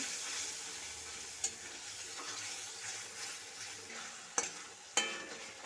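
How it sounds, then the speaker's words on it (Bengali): Spices and ingredients for peas kofta curry being stirred and sautéed in a pan, with a soft continuous sizzle under scraping strokes and a few sharp utensil clicks near the end. "এবার ভালো করে সব উপকরণ কষিয়ে নেব"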